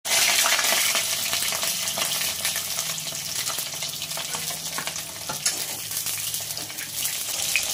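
Vegetables for a Bengali panch mishali tarkari fry in hot oil in a kadai, giving a steady, close sizzle with occasional stirring clatter and no talking.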